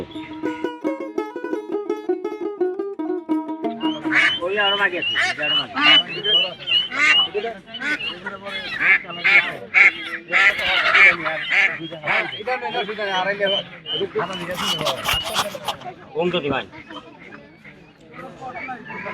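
Ducks honk and quack in a cluster at the Gobindasi rural market in Tangail, Bangladesh. The close, harsh, repeated calls keep overlapping with people talking and market bustle.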